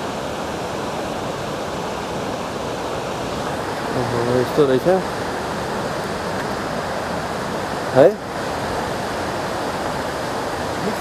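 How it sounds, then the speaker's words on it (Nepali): A river flows below a mountain road on the Kathmandu to Rasuwa route, giving a steady rushing roar that fills the clip, with brief speech and a short sharp noise over it. "ल खोला पनि हिँडेको छ तातो पानी पनि हिँडेको छ चिसो पानी पनि हिँडेको छ"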